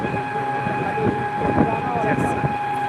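A train at an Indian railway station gives a loud rumbling roar with steady tonal whining, probably from a horn or machinery, while people's voices mix into the busy platform noise.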